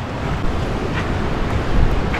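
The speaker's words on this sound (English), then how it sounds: "Look at those waves, Lake Ontario." Waves on Lake Ontario at a state park beach on a rough day, a steady broadband roar of surf mixed with heavy wind buffeting the microphone, with no talk.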